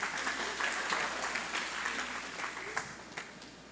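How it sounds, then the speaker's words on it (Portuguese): A church congregation claps through a sustained round of applause, a dense patter of many hands with a few sharper claps standing out near the end. "Você pode aplaudir a Deus pela atuação do Tyson?"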